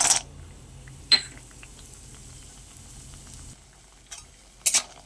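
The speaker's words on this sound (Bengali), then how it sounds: "এবার আমি বড়িগুলো ভেজে নেব।" Lentil dumplings (bori) fry in hot mustard oil in a kadai, a steady low sizzle broken by a few sharp clinks and scrapes of a utensil against the pan.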